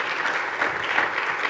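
A church congregation applauding, a dense, even wash of many hands clapping at once, brief and sustained without voices on top.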